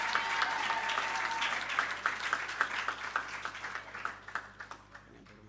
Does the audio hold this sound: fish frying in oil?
no